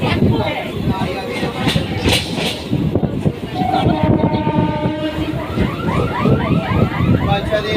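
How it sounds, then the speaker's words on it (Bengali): A moving passenger train rumbles and rattles steadily around someone standing inside a carriage, with a rising tonal whine from the rails and voices talking over the noise. "এই দেখো ট্রেনের ভেতরে আর পাশেই দাঁড়িয়ে আছি"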